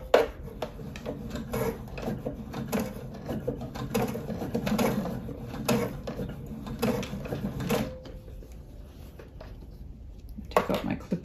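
A sewing machine slowly stitches binding through the thick layers of a quilted oven mitt, an uneven close whir with rubbing and handling noises, stopping near the end before a brief restart.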